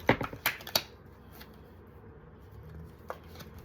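Cards riffled in a quick crackling burst of rapid flicks, then near silence with one more soft flick afterward.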